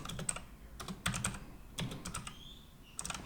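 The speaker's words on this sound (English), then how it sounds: "right while I'm typing it up" Bursts of quick clicking keystrokes on a computer keyboard, close by, in irregular clusters separated by short pauses.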